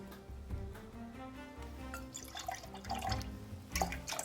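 Dragon fruit juice poured for a cocktail trickles and splashes in short irregular bursts, close up, with dripping and clinking between pours.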